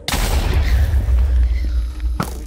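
A ghast in Minecraft fires fireballs, heard as a loud blast followed by booming, crackling bursts over a low rumble, with another sharp hit near the end.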